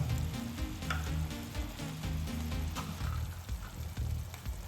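Eggs fry in a pan of egg gravy with a dense, even sizzle and popping crackle. It sounds close and constant, with no pauses over the few seconds.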